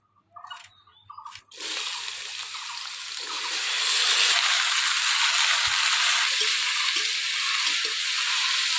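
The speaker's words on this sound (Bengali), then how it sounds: "এবার আমি আগে আলু ভাজবো।" Potatoes drop into hot oil in a pan and burst into a loud, continuous sizzling hiss that builds and stays steady, after a few brief clatters at the start.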